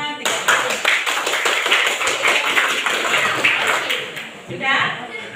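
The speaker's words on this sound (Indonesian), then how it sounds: "Kita tepuk tangan 3 kali." A class of schoolchildren claps their hands together in a string of sharp, fairly loud claps, followed by a brief pause and a trailing scatter of softer claps.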